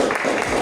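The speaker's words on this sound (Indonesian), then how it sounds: "Beri tepuk tangan dulu." Brief burst of clapping from an audience at an Indonesian school group presentation on academic supervision coaching, steady and dense for under a second.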